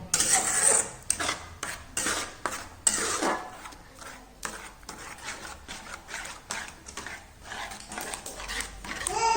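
Soybean and leftover chapati mixture stirred in a pan over a gas flame, giving repeated close scraping and clinking strokes in an uneven rhythm, with a dog whimpering faintly in the background.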